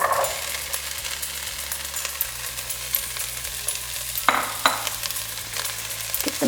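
Chopped carrots, potato and beans hit a hot pan and fry with a constant sizzle, joined by clinking and scraping stir strokes that grow busier toward the end.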